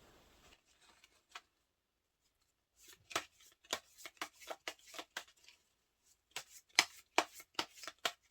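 Tarot cards being shuffled, a short brush of cards, then two quick bursts of crisp rapid riffling flicks separated by silence, close and quiet, with no talk.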